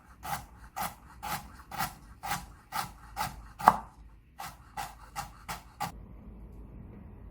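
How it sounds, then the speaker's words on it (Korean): Carrots being julienned with a knife on a cutting board for bibim mandu: a steady run of about fourteen crisp, evenly spaced chops, close and clear, trailing off into quiet. "당근도 채 썰어줍니다"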